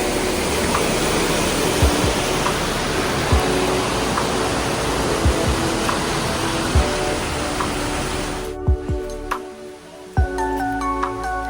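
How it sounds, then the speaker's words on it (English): Waterfall at a big drop-off near Siem Reap, Cambodia, roaring as a loud steady broadband rush for most of the clip before cutting off abruptly, leaving faint scattered ambient clicks and bird-like chirps. "obviously there's a waterfall right here"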